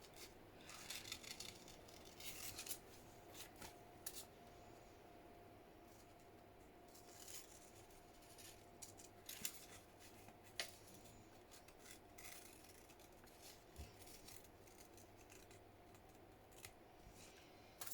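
Scissors snipping a paper strip at a craft table for a Halloween junk journal, giving quiet, close, irregular cuts and rasps over a faint steady background hum, with no talking.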